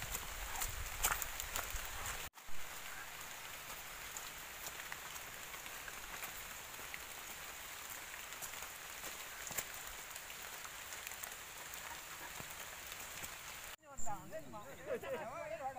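Steady hiss of rain falling, heavy and constant, cut by two abrupt breaks, with a short stretch of faint birdsong near the end.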